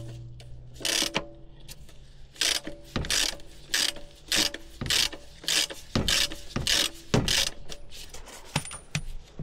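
Socket ratchet with a 27 mm socket loosening a bolt on a Renault Espace IV 2.0 dCi during an oil change: a steady series of close, sharp ratcheting clicks in repeated bursts, with no talk.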